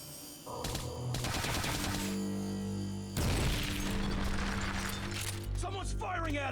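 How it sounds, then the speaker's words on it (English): Gunfire in Metal Gear Solid: Peace Walker, heard as loud bursts of shots and cracks over steady game music, with a sharp impact partway through and a dense, busy mix throughout. "Someone's firing at us!"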